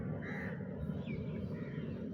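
Crows perched on overhead wires near a rural poultry farm give a few harsh caws at moderate distance over a steady low background hum.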